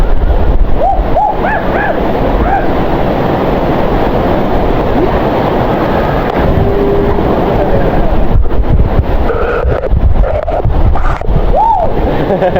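Strong waterfall at Nagsasa Falls in Zambales, a loud, constant broadband rush dominating throughout, with faint voices briefly audible over it.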